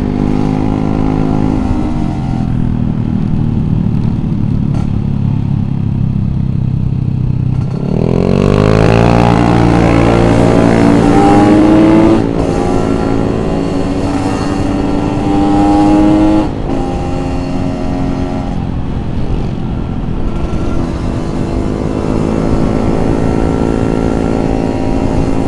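A two-stroke motorcycle on a Sunday morning group ride threads through traffic, its engine droning loud and close throughout, with a surge of revving about a third of the way in. No one talks.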